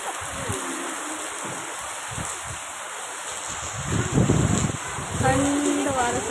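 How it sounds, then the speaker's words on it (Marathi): Steady rain hiss with wind noise, near and continuous, while a person talks intermittently over it. "पाऊस मस्त आहे चालू आहे"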